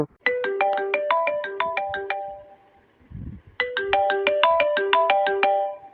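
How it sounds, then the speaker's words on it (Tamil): A melodic mobile phone ringtone plays a bright, bell-like tune loudly and close by. After a short pause the same tune plays again. "அம்மா தான் ஃபோன் பண்றாங்க"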